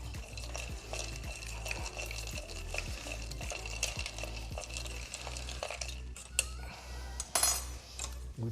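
A rum cocktail with pear juice and lime juice being stirred briskly, a spoon clinking rhythmically against the glass in steady, evenly spaced strokes, close and distinct with no talking.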